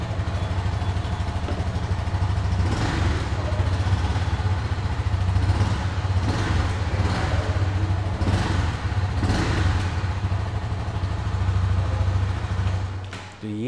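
A Honda CB300F 300 cc motorcycle engine runs steadily with a low, throbbing idle, rising briefly in a few short revs before cutting off at the end.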